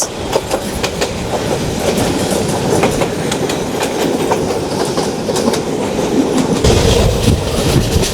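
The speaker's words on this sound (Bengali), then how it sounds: "তিন হাজার সিরিজের একটি লোকোমোটিভ নিয়ে চট্টলা এক্সপ্রেস" The Chattala Express, hauled by a 3000 series locomotive, runs past loud and close with steady clickety-clack of wheels on rail and rumbling wagons throughout.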